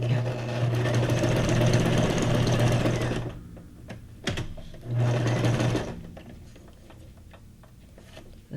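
A sewing machine runs in two bursts, stitching junk journal ephemera: a loud steady whirring for about three seconds, a short pause, then a second shorter run, with quiet handling sounds afterward.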